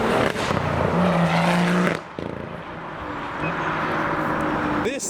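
A loud BMW M140i drives past at a car show, its exhaust roaring close by and then dropping off sharply, with someone talking over the engine noise.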